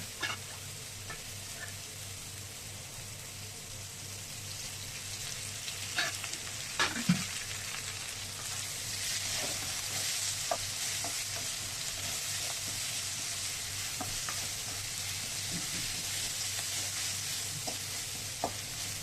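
Ginger and garlic fry in oil and butter in a pan, a steady close sizzle with scattered pops and light stirring clicks, with no one speaking.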